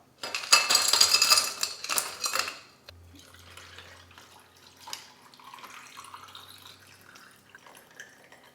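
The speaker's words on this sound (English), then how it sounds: "I'm going to first fill this with ice and then pour water into it." Water is poured into a glass packed with ice, splashing and rattling loudly for a couple of seconds, followed by faint clinks and trickles as the cubes settle.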